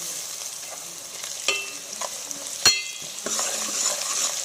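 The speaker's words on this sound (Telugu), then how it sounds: "ఆనియన్స్ మంచిగా వేగినవి చూడండి." Onions fry with mint and curry leaves for a mutton curry, giving a constant close sizzle broken by a few clinks and scrapes of a spoon stirring the pan.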